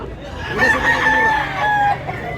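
A rooster gives a single loud, drawn-out crow close by. Faint background noise sits underneath, and no one speaks.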